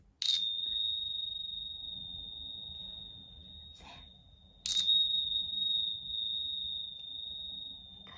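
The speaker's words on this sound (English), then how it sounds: "I've just got these little bells. I use these in between clients for cleansing my cards, but let's just use them on you for a minute" Two strikes of small cleansing bells several seconds apart, each a bright, piercing ring that sustains and slowly fades, heard close and alone in a quiet room.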